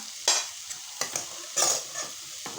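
Rice going into hot oil for biryani, giving broken bursts of sizzling and scraping stir strokes that rise and fade several times, fairly close and clear.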